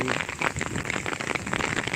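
Heavy April rain pours down steadily in a dense, close wash of drops drumming on surfaces, with no pauses.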